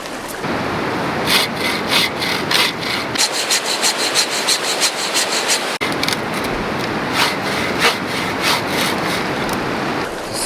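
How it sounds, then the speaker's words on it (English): A knife held sideways scrapes the scales off a freshly gutted fish outdoors in the northern wilderness, making a steady series of close, loud, rhythmic rasping strokes with no talk. "Scale it, I just hold my knife sideways, scrape all the scales off like that."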